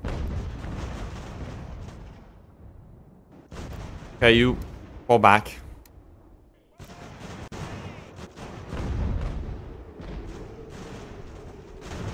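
Cannon and musket fire boom and crack in Ultimate General: American Revolution, a battle near Boston, with two sharp loud bursts among rumbling volleys while someone talks over the battle.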